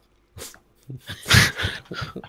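Dog sounds from petting dogs in the Minecraft video game: a series of short panting and yipping noises in quick succession, fairly close and clear, with no talk over them.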